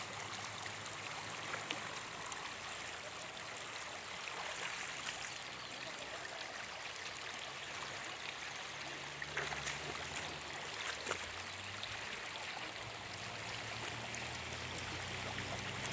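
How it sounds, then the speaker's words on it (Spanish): A river rushes and gurgles steadily, a soft continuous flow with faint splashes, alone and fairly quiet, near El Estor, Izabal, Guatemala. "este río pasa por la aldea El Zarco y desemboca al lago"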